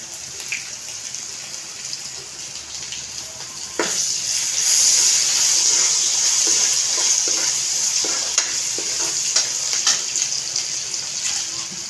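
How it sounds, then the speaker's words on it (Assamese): Garlic and ginger paste frying in a pan, a steady broad sizzle that jumps louder a few seconds in when the paste hits the oil and keeps hissing with a few light scrapes, no talk. "এতিয়া মই দিম নহৰুখিনি, আদা নহৰু বটা অকণমান"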